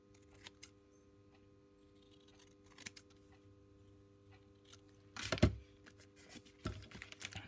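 Scissors snip and cut off paper for book pages, a few quiet, sparse crisp cuts and rustles with one louder sharp crunch near the end, in a quiet room.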